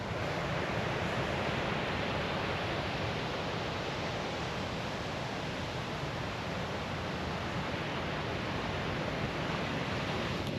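Waves washing onto a white sandy beach in Sydney, a steady dense roar of surf with no breaks, close and fairly loud.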